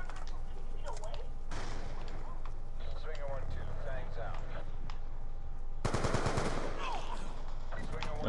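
Gunfire in a shooting video game: rapid bursts of automatic fire and sharp sniper shots, with the heaviest volley near the end, under players' voices talking throughout.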